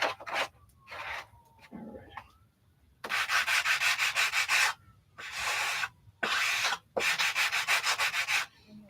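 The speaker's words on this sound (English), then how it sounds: "You don't want to sand into the rails here." Hand sanding on a model build, with quick repeated strokes in distinct bursts separated by brief pauses, close and fairly quiet, and no voices.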